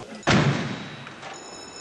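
A blast explosion strikes a mannequin dressed in flame-resistant clothing during a lab test, one sudden loud burst-like thud that fades into a rumbling decay over a second or so.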